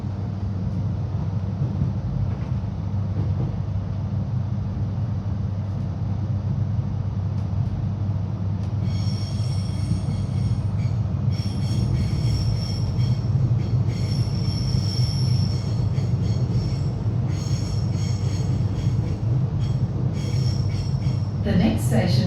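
A Melbourne Belgrave line train rolls along with a steady low rumble, and high wheel squeals rise and fall through the second half, heard from on board.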